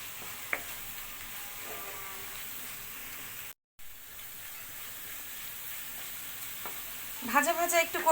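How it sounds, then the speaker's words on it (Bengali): Spices sizzle softly in a pan on medium heat while being stirred for a tripe and potato curry, with faint scraping and occasional clinks over a low, even hiss. "মশলাটাকে আমি সুন্দর একটু ভাজা ভাজা করে নিব"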